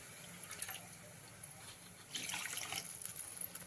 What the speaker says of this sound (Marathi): हे पण भांडं आपण विसळून टाकू